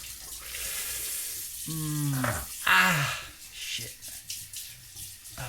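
A Rockwell 6C adjustable safety razor is rinsed under a running tap, with water hissing and splashing steadily while a man groans and swears once in the middle.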